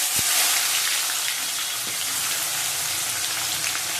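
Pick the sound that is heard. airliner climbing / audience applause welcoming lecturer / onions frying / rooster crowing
onions frying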